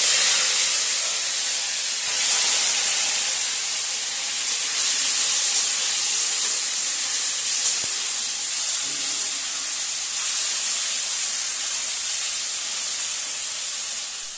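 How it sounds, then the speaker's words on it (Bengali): Small fish fry in hot oil in a wok, giving off a loud, constant hiss of spitting oil that holds steady throughout with no talking. "এবার মাছগুলো অল্প অল্প করে ভেজে নেব।"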